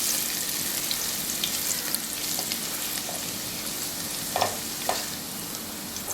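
Finely chopped ginger frying in hot oil for soya khichdi, a steady loud sizzle with occasional stirring scrapes and spatters, close up and without talk.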